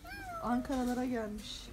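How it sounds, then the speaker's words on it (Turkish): A black cat in an animal shop at a shopping mall in Ankara gives one drawn-out, wavering meow close by, while a person talks over it. "kara kedi duyuyorsanız o kara kedi."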